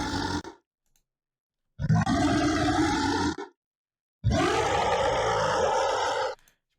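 An aggressive, gravelly monster vocalization processed with the Soothe2 plugin: three growling roars, a short one followed by two longer sustained ones separated by silences, loud and close.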